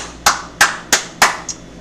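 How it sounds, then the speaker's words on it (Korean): Light applause on a Korean talk show: five sharp, evenly spaced claps, fairly close and moderately loud, with no talk over them. "박수를 보내고 싶어요."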